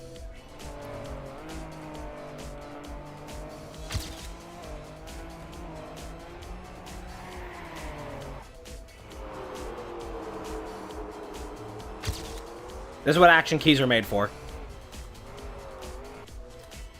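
Rally car engine in Trackmania droning and shifting pitch throughout, with a burst of sharp tire squeal near the end; someone speaks briefly over it.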